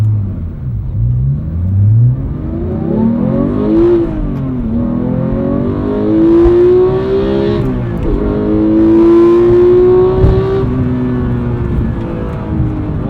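Manual 991.2 Porsche GT3 flat-six engine revving from inside the car on a test drive, loud rising and falling engine tones climbing through repeated pulls and gear changes, continuous and close with no talk.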